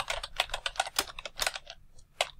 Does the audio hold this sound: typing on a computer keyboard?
yes